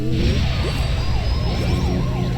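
Siren item effect in KartRider Rush+, a wailing electronic siren sweeping up and down in quick repeated loops over loud game music and kart noise, close and continuous.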